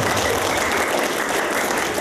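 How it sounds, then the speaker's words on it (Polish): A crowd claps steadily, dense and even, filling the whole short stretch without voices. "Brawa, proszę bardzo. Pamiętajcie, każdy profesor kocha oklaski."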